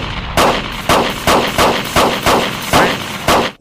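Gunfire in a Bhojpuri action film scene, seven loud evenly spaced gunshots in a steady rhythm, each with a sharp attack and a brief decaying tail.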